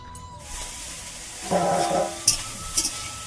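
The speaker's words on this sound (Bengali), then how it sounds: "একদিকে ভাত করছি আর একদিকে ফুলকপি ভেজে নিচ্ছি" Cauliflower frying in an old, well-used pan on a home stove, with a soft steady sizzle, a brief louder burst of stirring, and a few sharp scrapes near the end.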